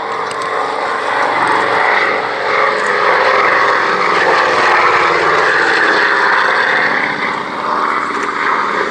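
A vintage propeller communications aircraft from 1946 flies past at an airshow, its steady, loud engine drone holding throughout.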